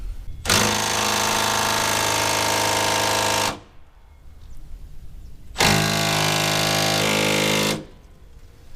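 An impact wrench hammering on the rubber-isolated cab bolts of a Bobcat S250 skid steer, two long loud rattling bursts of about three seconds each, separated by a short pause, close and without talk.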